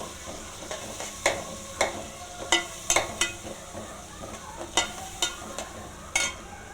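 Onions fry in a pan under a constant soft sizzle, broken by repeated sharp scrapes and taps from a stirring utensil at a fairly regular pace, close by and with no talking.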